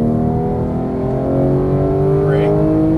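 A Porsche GT3 991 engine pulls hard on a race track, a loud, close, steady drone that climbs in pitch as the throttle is squeezed out of a corner.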